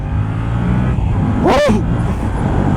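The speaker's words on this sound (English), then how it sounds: "Let's give it a little acceleration." A Yamaha motorcycle engine revs sharply upward in a quick burst of acceleration over a constant low rumble, close and loud.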